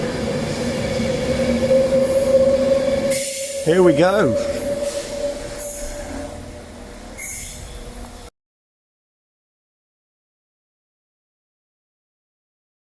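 A train departs from a station in the English Lake District, pulling away with rumbling wheels and a brief rising squeal, a voice speaking briefly over it before the sound cuts off.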